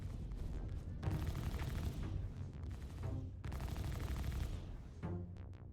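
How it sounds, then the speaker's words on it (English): Gunfire in the video game Star Citizen comes in two long, dense automatic bursts with a few scattered shots between them and a brief tail at the end. The shooting is quiet overall and plays with no talk over it. "Why are we shooting at him?"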